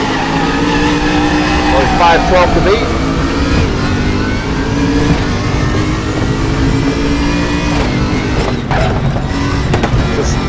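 A BMW Z4 race car in the RaceRoom racing game, its engine droning loud and continuous with rising and falling revs as it accelerates, while someone talks over it.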